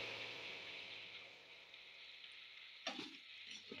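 Jaggery syrup boils in a pan with a faint, steady bubbling hiss. A few soft clatters come near the end.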